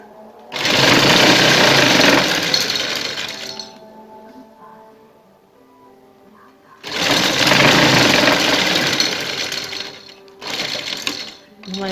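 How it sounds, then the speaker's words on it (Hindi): Sewing machine doing rough tacking stitches over heavy fabric while shaping a neckline design, loud fast whirring runs in two long bursts and a short one, with quieter handling between. "इसके ऊपर रफ स्टिचिंग करेंगे।"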